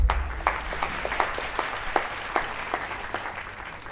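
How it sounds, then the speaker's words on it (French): Scattered, fairly sparse clapping from a fashion-show audience, with distinct individual claps standing out over a soft crowd bed, moderately distant and steady for a few seconds. "Sous vos applaudissements, découvrons les tenues, s'il vous plaît"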